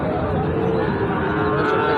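A local desi cow moos at a busy cattle market, a loud, sustained low lowing call heard up close over crowd background noise, with no talk in the clip.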